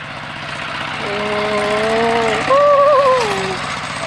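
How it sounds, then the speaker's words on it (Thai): A tractor engine chugs with a steady low putter outside a house in a rural village, while a man's drawn-out exclamation rises over it. "รถไถเพิ่นกลับมา"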